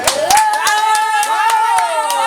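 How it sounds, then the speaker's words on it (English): Scattered hand claps from a small gathering land as sharp separate slaps over a steady, tonal voice that holds sung or drawn-out notes throughout. "Let's give her a clap."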